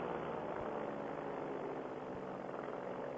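Small paramotor engine running steadily under a pilot flying a Sirocco paraglider wing at dusk, a continuous droning buzz held at an even level throughout, with no voices.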